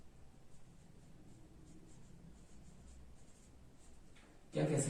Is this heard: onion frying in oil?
no